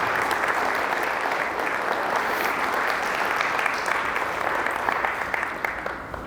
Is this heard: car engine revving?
no